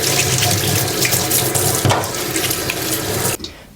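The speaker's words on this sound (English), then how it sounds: "Wash the chicken bone to remove any debris and dirt." Tap water runs steadily into a kitchen sink while chicken bones are rinsed of debris, a loud close splashing stream with a brief clatter midway, cutting off abruptly near the end.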